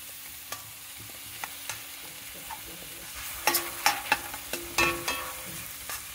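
Kashmiri red chili paste fries in oil on a tava for pulao, a faint steady sizzle with a low hum, then a cluster of louder spatula scrapes and taps in the second half, close by.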